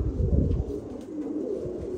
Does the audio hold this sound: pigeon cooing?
yes